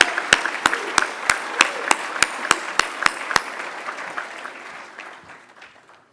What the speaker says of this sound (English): Big round of applause for our service excellence in food services.